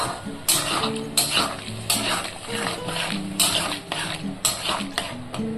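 Half a cup of water goes into cauliflower curry spices in a pan, and a spoon clanks and scrapes against the pot in repeated strokes over a soft bubbling sizzle, with a voice talking underneath.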